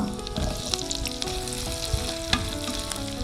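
Chopped garlic, green chilies and onion fry in hot oil with a dense, close sizzle and scattered sharp pops and stirring clicks.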